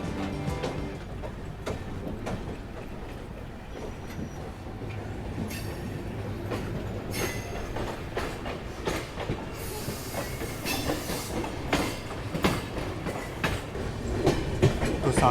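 A Duronto Express on a long-distance run rolls along the tracks between Vasai and Panvel, a continuous loud rumble with clickety-clack wheel beats and brief squeals, heard from inside the moving train.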